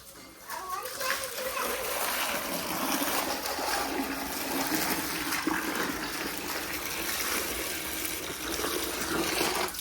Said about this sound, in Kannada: ನೀರು ಹೊಡಿತೀನಿ ಕಾರಿಗೆ ಸಿಡಿತಾವ ನೋಡಿ ನೀರು